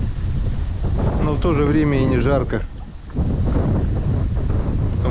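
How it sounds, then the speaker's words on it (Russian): Strong wind buffets the microphone outdoors by a river on a cool day, a heavy continuous rumble under a voice, which drops briefly and then returns. "Ветер мешает."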